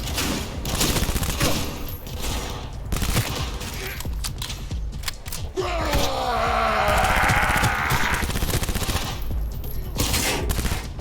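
Rapid gunfire from a weapon in the video game Cyberpunk 2077 rattles loudly in dense bursts, mixed with game effects and a rising whoosh partway through.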